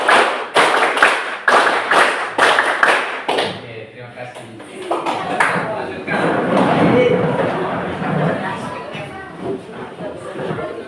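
Hands clapping in counted groups during a classroom activity, a rapid run of sharp close claps at the start, then a teacher's voice and ambient room chatter.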